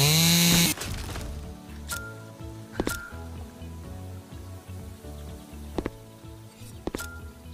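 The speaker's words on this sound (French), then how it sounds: "c'est bien d'entendre la tronçonneuse" In the video game House Builder, a chainsaw cuts wood with a steady droning engine hum and several sharp, repeated bursts of cutting, moderately loud and close, with no talking.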